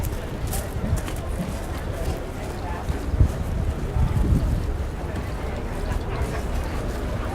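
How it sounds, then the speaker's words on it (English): Wind buffets the microphone at an outdoor groundbreaking ceremony in a steady low rumble with gusty thumps, drowning out most other sound for several seconds. "Windy."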